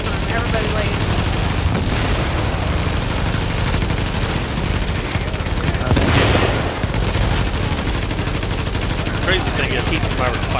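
Heavy sustained video game gunfire, loud overlapping bursts and automatic fire from several weapons at once, close and dense throughout, with a brief chaotic swell midway.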